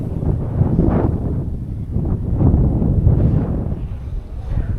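Wind at the Vellanikkal Paramukal viewpoint, low rumbling gusts buffeting the microphone in uneven surges, loud and close with no other sounds standing out.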